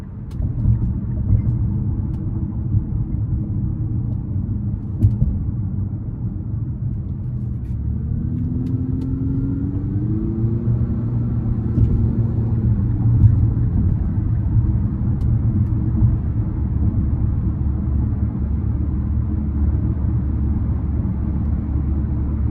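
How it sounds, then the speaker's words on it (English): Infiniti QX50 2.0 turbo in sport mode accelerating up an interstate on-ramp, heard from inside a quiet cabin as a steady low road and engine rumble, with a rising engine tone entering midway as it pulls. "I'm gonna put it into sport mode now, getting on the interstate, and we'll see how it pulls"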